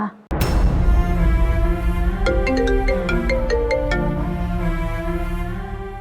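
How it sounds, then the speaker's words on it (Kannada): A phone ringtone plays loud and close, starting abruptly with a sustained melodic tone and a series of bright repeated chime notes, then tailing off gradually, with no talk over it. "ಅವ್ರದೇ ಫೋನ್ ಬರ್ತಾ ಇದೆ"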